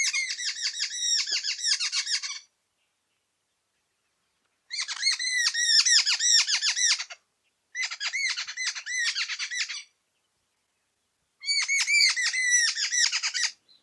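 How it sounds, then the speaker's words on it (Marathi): Harsh, chattering squawks from a small flock of jungle babblers come in four bursts of a couple of seconds each, separated by silent gaps. "सातभाईचा आवाज म्हणजे सततचा गप्पांचा कार्यक्रमच तो सतत बोलत राहतो"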